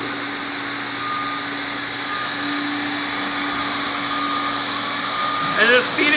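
A banner welding machine runs with a steady, high motorized whine while a banner is fed through it, and a voice breaks in near the end.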